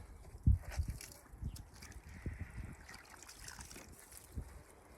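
Water squeezed out trickles and splashes into the ground below a block, giving soft intermittent drips and dribbles close by with faint outdoor wind behind them.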